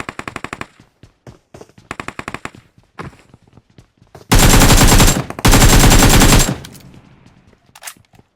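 Automatic gunfire from the BGMI mobile battle royale game, with scattered single shots and footsteps followed by two long, loud sustained bursts, then quieter trailing shots.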